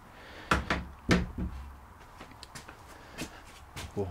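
A newly built wooden door on a garden dry toilet opens and shuts with several sharp knocks and thuds, loud and close, spread over a few seconds.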